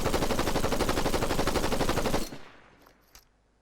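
Sniper rifle fire in a video game, a loud, heavily clipped and distorted burst lasting about two seconds, then cutting off sharply into near silence with a faint click.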